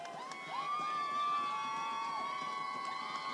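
At a high school football game, the home crowd makes noise for the Trojans: a sustained roar of cheering with shrill whistling and pitched shouts layered on top, loud and continuous throughout.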